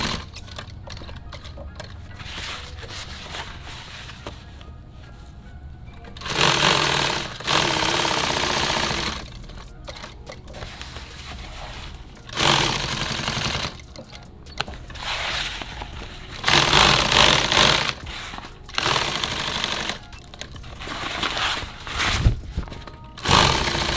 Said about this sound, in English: I'm going to sew this piece here.